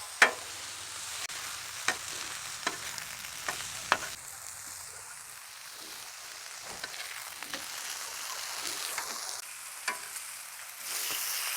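A chipotle pork loin sizzles steadily on a flat-top griddle, with a few sharp clanks of a spatula flipping the meat near the start and a soft, continuous frying hiss throughout.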